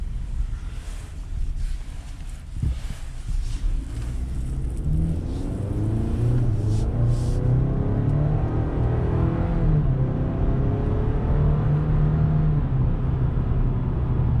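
A 2019 Chevrolet Silverado LT's turbocharged four-cylinder engine pulling under acceleration, a low droning growl rising in pitch with wind rush over the microphone, heard from inside the cab.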